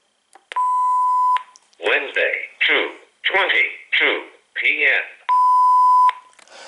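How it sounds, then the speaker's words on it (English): Two steady electronic tones from an AT&T 9357 answering machine, each lasting under a second, bracket a stretch of synthesized-sounding spoken announcement between them; the beeps are clear, loud and close. "the tone beep does sound similar"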